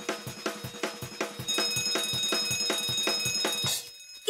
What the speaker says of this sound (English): It's Mr. Bell. There must be a fire